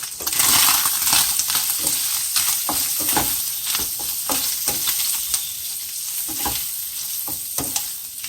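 Diced ham fries loudly in a pan with a dense close sizzle, punctuated by sharp pops and the repeated scrape and clink of a utensil stirring throughout.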